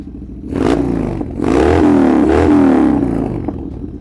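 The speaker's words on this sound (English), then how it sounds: "these Evo Sportsters, they like to get warmed up before they go for a ride." An Evo-engine Harley-Davidson Sportster motorcycle warming up with the choke still on, its V-twin running loud and close with a lumpy, uneven idle that rises and falls in pitch.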